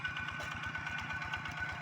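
A walk-behind two-wheel tractor out plowing a rice field chugs with a rapid, even thumping beat, its small engine running steadily at moderate distance.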